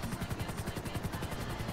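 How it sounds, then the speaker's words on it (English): Helicopter in GTA V Online flying by, a steady rapid rotor thump pulsing throughout at moderate, fairly constant loudness with no talk. "there's a chopper flying by"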